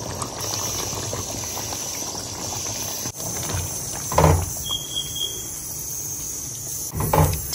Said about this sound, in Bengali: চিকেনটা ভালোভাবে ফুটে এসেছে, একটু তেলও বেরিয়ে এসেছে